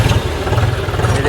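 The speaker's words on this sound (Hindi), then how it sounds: "अब मैं भी लेके निकलूँगा मेरा ट्रैक्टर। ये देख सकते हो स्टार्ट कर लिया मैंने भी" A tractor engine, a John Deere 5050D or a Mahindra 585, starts up on a farm and settles into a loud, steady, clattering diesel chug. Voices talk over it.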